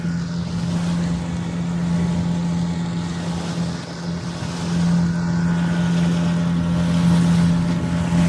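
A motorboat motor drones steadily on a mangrove backwater trip at dusk, a constant low hum with wind buffeting the microphone throughout and no talk.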